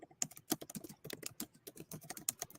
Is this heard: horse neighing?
no